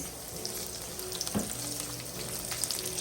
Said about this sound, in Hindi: अब मैं इसके अंदर डालूंगी रेड चिलीज